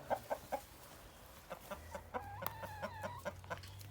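Chickens cluck in short bursts, with a rooster-like call rising midway; farmyard fowl sounds fairly near against a low background hum.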